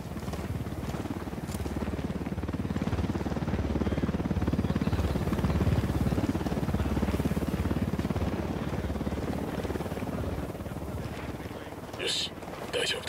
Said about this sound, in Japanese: ユニタットのヘリだ、身をかがめろ